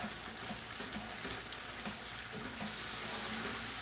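Prawns frying in a pan give off a quiet, steady sizzle with soft crackles and faint stirring movement, continuous and close throughout.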